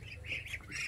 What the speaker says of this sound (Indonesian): Itik.